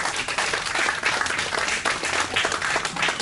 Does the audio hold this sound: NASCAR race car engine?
no